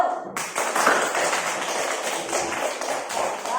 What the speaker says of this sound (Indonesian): beri tepuk tangan untuk Biba dan teman-temannya kelompok 1